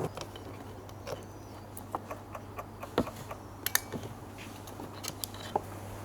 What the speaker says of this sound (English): the dash started clicking like crazy